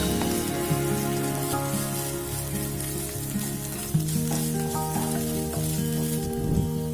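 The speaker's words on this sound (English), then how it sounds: "Now add 1 tablespoon of ginger garlic paste and saute for a minute." Ginger garlic paste sautés in a pan with a continuous crackling sizzle, loud and close and unbroken, while soft background music plays and nobody talks.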